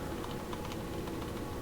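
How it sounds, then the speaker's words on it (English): Rapid keyboard mashing on a computer keyboard, a dense run of clicky keystrokes at close range with no pauses, alone with no talk. "Just kind of mashing this keyboard here."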